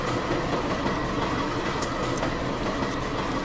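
A zigzag train runs toward H junction with a steady, continuous rumble of rolling wagons and faint clickety-clack, heard alone at moderate loudness without any talk.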